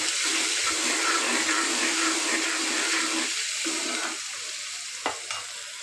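Turmeric and chili spice paste is stir-fried in a pan with a splash of water, giving a steady, loud bubbling sizzle with a few scraping stirs near the end.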